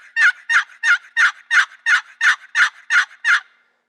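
Ten loud, evenly spaced turkey hen yelps scraped from a Woodhaven Real Hen walnut box call, clean and sharp, played alone at close range with a steady rhythm.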